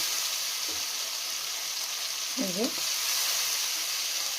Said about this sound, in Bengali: ভিজিয়ে রাখা শুটকি মাছটা এখন দিয়ে দেবো মশলার মধ্যে, দিয়ে ভালো করে কষাবো।